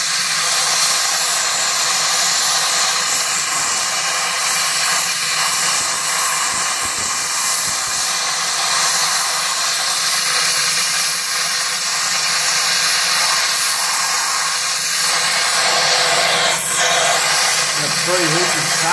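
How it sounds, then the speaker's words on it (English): Gas torch flame roaring steadily at high output while melting platinum, a continuous loud hiss and rush that holds throughout with only slight fluctuations. "Now the metal's hot, you can turn the flame up"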